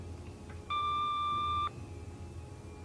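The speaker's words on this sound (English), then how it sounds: "If you leave a message after the beep, we'll call you back as soon as we can" An answering machine gives a single steady electronic beep lasting about a second, clear and fairly loud over faint room hum, with nothing else before or after.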